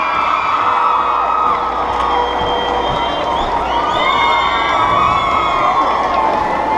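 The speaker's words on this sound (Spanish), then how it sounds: "Démosle un fuerte aplauso al señor Noel Chacri" A stadium crowd at Estadio Atahualpa roars with sustained cheering, whoops and shouts, loud and continuous throughout with no break.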